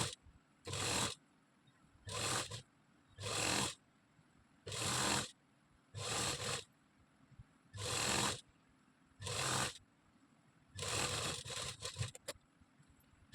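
Sewing machine stitching the folded-under hem of a palazzo, running in about nine short whirring bursts separated by brief pauses, close and clear with no talk.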